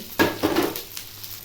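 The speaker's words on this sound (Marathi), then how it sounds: "कांदे भाजत असताना खोबरं पण टाकते" Two onions and coconut roasting in a pan give a soft sizzle broken by a few scraping stirs and light clinks of a utensil against the metal, close up and without talk.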